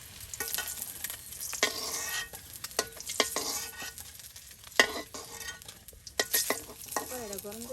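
Hot oil sizzling in a pan in a village kitchen, with sharp spattering bursts and stirring clatter breaking through a quieter crackle, close and moderately loud with no talk.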